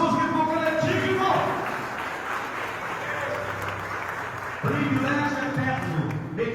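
A church congregation claps together in steady, sustained applause that stays dense and loud throughout, with a slight dip in the middle before swelling again near the end.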